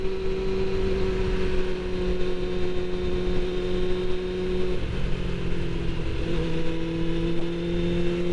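Suzuki GSX-R750 motorcycle engine holding a steady drone while riding along country roads, a continuous hum with slight pitch shifts around the middle, no talk.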